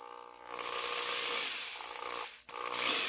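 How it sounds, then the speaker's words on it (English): A cheap corded electric drill motor runs continuously with a rough, growling whine, swelling and dipping slightly in pitch, close and fairly loud with no talking. "Growls quite a bit, and that's just due to this thing being somewhat of a cheap drill."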